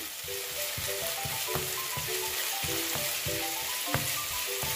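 A steady sizzle of garlic paste frying in a pan, with regular scraping strokes of a spoon stirring through it, continuous and close.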